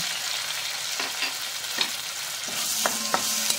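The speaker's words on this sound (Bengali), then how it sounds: "তো ভালো করে নেড়ে চেড়ে কষিয়ে নেব।" Ginger, garlic, green chilli and tomato masala sizzles in a pan for a jackfruit and shrimp curry, with a steady hiss and a few soft scraping stirs near the end, no talk.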